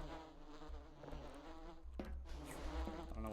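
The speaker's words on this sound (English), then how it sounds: "I'm getting hit by bees." Buzzing of bees in the horror game Voices of the Void, a steady droning hum with harmonic layers that swells and fades as the insects swarm close, heard without speech.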